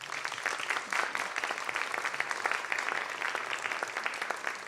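Sustained applause from a showcase audience honoring students at a family weekend event, a dense, steady wash of many hands clapping at even loudness throughout.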